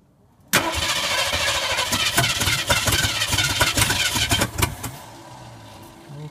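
An old Ford F150 truck cranks and fires up abruptly, running rough and loud for several seconds with uneven bursts before settling to a quieter idle.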